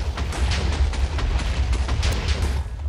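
Gunfire in the Minecraft Tekkit modpack comes as a dense, loud stream of rapid shots and crackling bursts that fills the whole stretch without pause.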